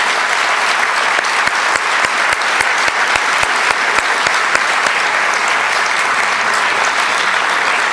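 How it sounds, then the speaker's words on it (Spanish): A church congregation applauds steadily, a dense wash of many hands clapping at close range, sustained and even throughout with no speech over it. "Un fuerte aplauso."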